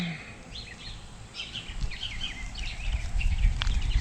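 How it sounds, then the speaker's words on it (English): Birds chirp and sing in scattered high calls over a steady low outdoor rumble, with no one talking. "the birds are singing and chirping away."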